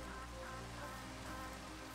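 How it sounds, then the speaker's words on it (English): Rain falling in a video game, a quiet, even patter of in-game rainfall under a low steady background hum, faint and continuous with no talk over it. "Oh, it's raining."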